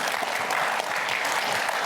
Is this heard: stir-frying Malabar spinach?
no